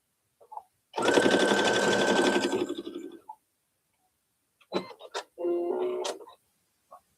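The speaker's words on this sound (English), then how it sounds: "go ahead and sew a straight line across both sides" A sewing machine stitches a straight seam across a small keychain bag charm, a steady whirring run of about two seconds, then after a pause a few short clicks and another brief burst of stitching, close and fairly quiet.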